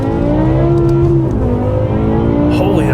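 A BMW M6 with a V10 engine and F1-style exhaust roars loudly at close range with a steady high-pitched drone, then a hard upshift drops the pitch.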